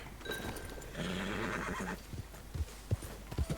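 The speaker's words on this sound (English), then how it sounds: "What are you doing to that horse?" A horse in the Red Dead Redemption 2 video game gives a loud whinny, followed by a few sharp clip-clopping hoofbeats on hard ground near the end.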